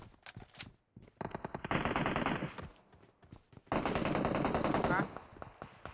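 Rapid automatic gunfire in PUBG Mobile, with loud sustained bursts of machine-gun fire separated by short gaps and a few isolated single shots, while a player talks over the shooting.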